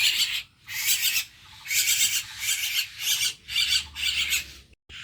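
A myna chick being hand-fed gives harsh, raspy squawking calls up close, about seven loud bursts in quick succession separated by brief pauses.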